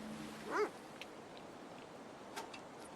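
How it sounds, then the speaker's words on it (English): A dog in a folk horror deckbuilder video game lets out one short, faint yip or whine early on, followed by near-quiet with only a few soft ticks. "And there's a dog?"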